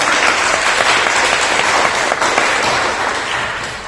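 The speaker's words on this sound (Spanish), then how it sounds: "Por favor, un fuerte aplauso para Raúl" A dense, steady wave of audience applause for Raúl fills a CometCon 2020 convention hall, loud and sustained throughout and easing only slightly toward the end, with no voices standing out.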